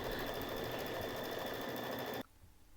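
An embroidery machine runs steadily, stitching a felt Halloween treat bag in the hoop, a dense continuous whir with a high whine that stops abruptly near the end, leaving quiet room noise.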